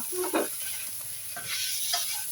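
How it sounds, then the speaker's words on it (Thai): Ingredients stir-fried in a pan for a Chinese dish give off a low, steady sizzle, broken by a few short scraping strokes of the utensil. "ผัดให้มันเปลี่ยนสีก่อนนะคะ"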